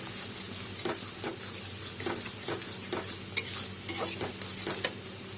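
Spice masala with sugar being stir-fried in a pan for a vegetarian pointed gourd curry, steady sizzling under repeated scraping strokes of a spoon, close and continuous with no talk.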